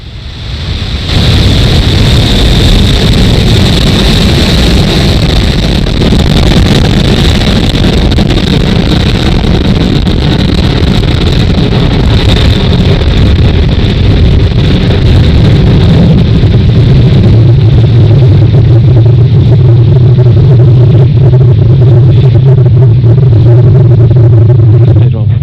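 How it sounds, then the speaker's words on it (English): Falcon 9 rocket lifting off from pad 40 at Cape Canaveral Space Force Station, a loud, continuous broadband roar with heavy low rumble that holds steady and deepens toward the end, with wind buffeting the microphone. "Falcon 9 has successfully lifted off from pad 40 at Cape Canaveral Space Force Station"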